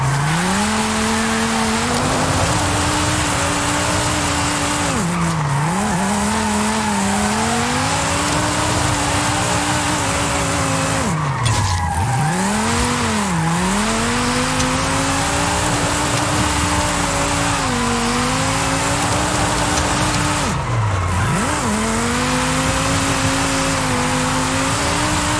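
Drift car in the Forza Horizon 5 video game held at full throttle, its engine droning loud and steady for the whole stretch, pitch rising and dipping sharply as it revs, with a constant hiss of tyre noise throughout and no voices.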